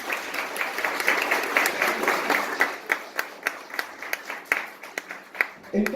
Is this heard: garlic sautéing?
no